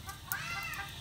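A hen that has just laid an egg clucks briefly up close, a short burst of throaty, broken calls.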